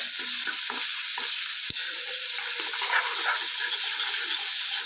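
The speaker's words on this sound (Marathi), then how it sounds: "आता मी आपलं काळं तिखट घेतलेलं आहे भाजी करायसाठी आणि मसाला पण चांगला भाजून द्यायचा आहे" Black chili masala roasting in a pan for a mutton dish, a steady broadband sizzle with soft scraping stirs and one sharp tap partway through, close and continuous with no voices.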